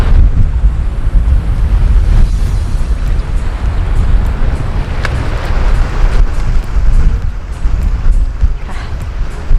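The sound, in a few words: strong wind at the Cornwall coast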